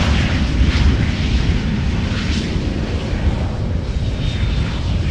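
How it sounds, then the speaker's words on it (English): An airliner roars with thrust reversers after landing at Amsterdam Schiphol Airport, a loud continuous broadband jet rumble holding steady throughout, heard from a distance across the airfield. "That were reversers being applied"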